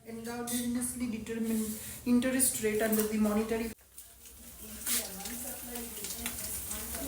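Oil heats and sizzles in a cooking pan, a soft steady hiss under a person talking for most of the time.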